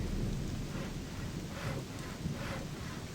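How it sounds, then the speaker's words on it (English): Steady rain with rumbling thunder in the video game Gothic II, a continuous low storm roar with swelling thunder rolls, no voices. "And we wake up to a bunch of rain again."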